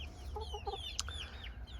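Hens on a small farm flock of about eleven birds cluck softly in a few quick, low-pitched notes with higher squawks after, faint and fairly distant over quiet background noise.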